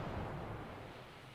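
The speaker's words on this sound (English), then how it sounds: "Oh, here comes another launch." A missile launches in the military simulation game Command: Modern Operations, heard as a faint, steady low rumble with a soft roar that slowly tapers off. No one speaks.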